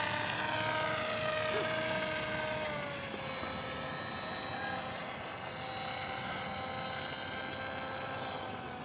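A 68-inch Storm Chaser RC model airplane drones overhead at quarter throttle, its steady propeller buzz loud and continuous with a slight pitch shift as it passes close by, with faint voices underneath.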